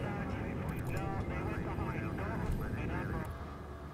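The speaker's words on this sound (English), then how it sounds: "A paladin is the aeroplane that you're in." Steady engine drone of the Paladin aeroplane in the stealth action game Splinter Cell Blacklist, a continuous loud hum that fills the clip while people talk over it.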